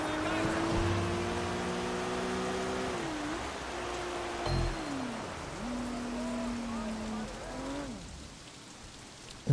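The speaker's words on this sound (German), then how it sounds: "Hongkong und immer regnet es hier in Hongkong." Steady rain falling over Hong Kong streets in the video game Sleeping Dogs, a continuous hiss with passing car engines droning and shifting pitch underneath.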